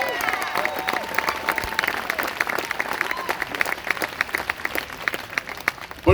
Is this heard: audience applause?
yes